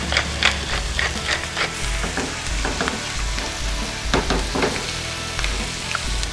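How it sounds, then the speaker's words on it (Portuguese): Onion and canned Paris mushrooms for beef stroganoff, seasoned with salt and black pepper, sizzling steadily in a pan while being stirred, with scraping stir strokes over a constant frying hiss and no talking. "Vamos trabalhar bem essa cebola, dourar ela bem."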